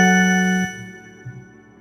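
A synthesized bell tone, picked as an instrument sound for a Studio One beat, rings brightly for a moment, then cuts off and leaves a short fading tail. No voices.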